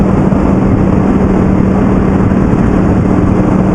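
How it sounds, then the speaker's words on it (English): Loud, continuous engine drone from a motorcycle, a 2009 Yamaha R1 or 2011 Aprilia Tuono, steady throughout with a dense low rumble and no distinct pops or crackles standing out. "Oh, it's got a lovely overrun burble on it"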